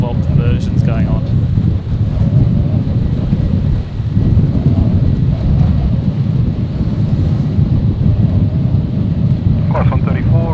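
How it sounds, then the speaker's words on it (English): Strong wind buffets an outdoor spot at Brisbane airport, a loud continuous low rumble of gusts hitting the microphone throughout, with brief faint voices in the background. "That wind has really picked up again."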